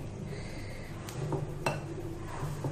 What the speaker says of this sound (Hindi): खोए और शक्कर और आटे को हमें मिक्स करना है